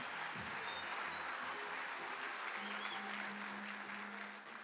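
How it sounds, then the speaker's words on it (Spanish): Steady, dense applause from an audience at a product presentation event, loud and sustained throughout with no talk over it. "Fuertes aplausos para todos ustedes."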